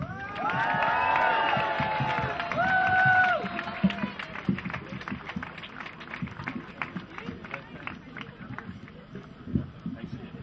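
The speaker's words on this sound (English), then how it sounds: "I'd like you to give a good round of applause for John McCarty." A crowd at a speech in Cork greets a speaker with loud whoops and cheering voices for a few seconds, then thins into scattered, uneven claps and murmurs.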